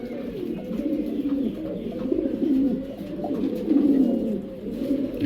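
Large foreign pigeons, Syrian dewlap pairs kept for sale, coo in deep, rolling, repeated calls close by, steady and continuous with no talking.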